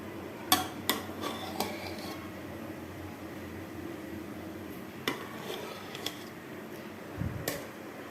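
Lid lifted off a pot of steamed mutanjan zarda, a sweet rice dish, with several sharp metallic clinks and taps of lid and utensils against the pot, scattered over a quiet kitchen background.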